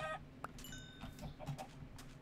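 Chicken clucking in Minecraft, a few short clucks close by at low level within quiet game ambience, no talk.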